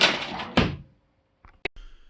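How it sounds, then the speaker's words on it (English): A drawer slides and knocks shut at a burger joint, with a scraping rush followed by a solid thunk, then silence and a few small clicks and taps. "let me put this in the drawer"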